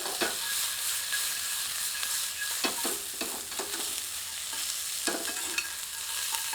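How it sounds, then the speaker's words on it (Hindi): Kapoore being roasted until crisp in a pan sizzle steadily, with intermittent stirring scrapes and clatters rising above the frying hiss and no talking. "थोड़ा भूनते हैं ताकि इनकी ऊपरी सतह थोड़ी सी करारी हो जाए।"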